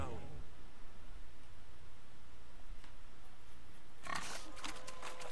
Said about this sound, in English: 叫我追一只猪吗？